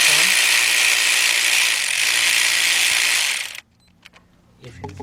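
Cordless ratchet tightening a bolt on a 1998 Cadillac Seville STS with the 4.6 engine, a steady close-up mechanical whir running for about three and a half seconds before cutting off abruptly, followed by a few faint clicks and handling noises.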